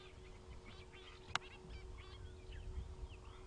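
Go-away birds calling at a dam in the African bush at sunrise, faint distant nasal calls repeating over a low outdoor hum, with one sharp click partway through.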